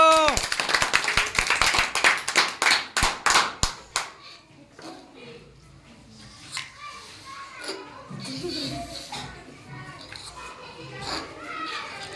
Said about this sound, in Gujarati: ચલો જોરદાર તાળીઓ.